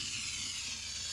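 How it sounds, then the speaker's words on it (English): Steady, loud hiss of a steam cleaner jetting vapour while deep cleaning a car interior, continuous and unbroken with no talk. "you make sure every nook and cranny, especially the nook, gets steamed"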